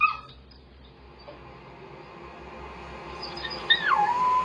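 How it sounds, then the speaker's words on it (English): A dog whines faintly at the start, then lets out a rising and falling howl near the end over quiet background hum. "He starts whining and lays down. Then he starts howling."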